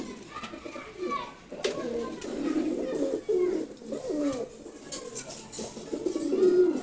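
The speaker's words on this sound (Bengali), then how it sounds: "ঘিয়াচুল্লি খুব সুন্দর একটা কবুতর, নর কবুতর, খুবই শক্তিশালী।" A male Ghiyachulli pigeon coos repeatedly at close range, soft rolling throaty calls in an uneven rhythm, with faint background noise.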